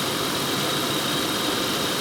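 A Toyota or Lexus 3-liter VVT engine with a sticking bank-two VVT component idles steadily, a constant close, even mechanical hum and whir with no talking.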